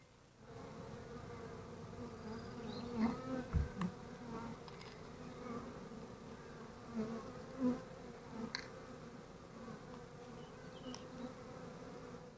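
Steady, low droning hum of a honey bee swarm buzzing together around a top bar hive, with a few louder individual buzzes passing close now and then.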